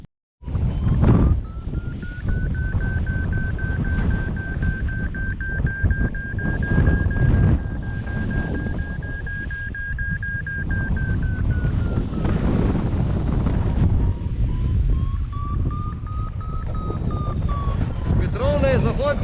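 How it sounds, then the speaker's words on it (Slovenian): Strong westerly wind blows on Čaven mountain during a hike-and-fly outing, buffeting the microphone in a loud, steady rush while people talk over it and a whistling tone rises and falls. "Vetrovno je zahodnik, močan"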